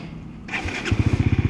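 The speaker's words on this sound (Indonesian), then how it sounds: "Tapi yang best ni motor ni, in every Suzuki lah, dia ada easy start eh" Suzuki GSX-S150 motorcycle, a small 147cc naked bike, started with its easy-start button: a brief starter whir, then the single-cylinder engine catches and settles into a quick, loud, evenly pulsing idle close by.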